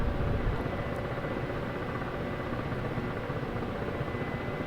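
A military helicopter maneuvers during a tank exercise, its engine and rotor making a steady, dense roar and wash of noise that holds level throughout, with no voices.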